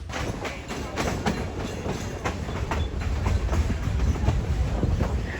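The Great Smoky Mountains Railroad heritage train rolls along its track in the North Carolina Smokies, wheels clicking over rail joints in a steady clickety-clack beneath a low rumble, heard close and sustained.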